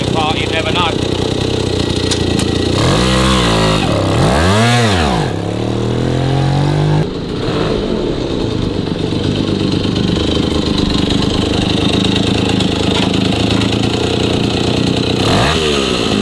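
A 1953 Itom Astor Sport two-stroke motorcycle engine runs loud and close, revving up and down in several sweeping bursts before settling into a buzzing idle, with a final rev near the end.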